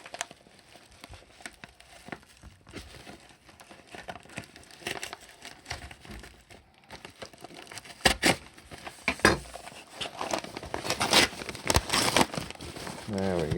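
Scissors or a blade cut open a package mailer, giving crinkling, tearing and crackling plastic sounds that get busier and louder toward the end, with some talking mixed in.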